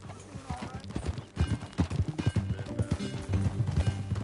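Galloping horse hooves in the video game Red Dead Redemption 2, an uneven rapid clip-clop rhythm beneath in-game music and ambience, moderately close.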